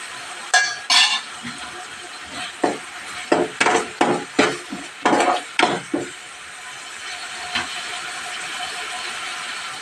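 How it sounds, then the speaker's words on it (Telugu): A spoon stirs coriander powder into egg curry in a pan, making a burst of quick scraping and clacking strokes in an uneven rhythm that trails off into a faint sizzle. "ఇలా అయితే కలిపేసుకోవాలండి ధనియాల పౌడరు"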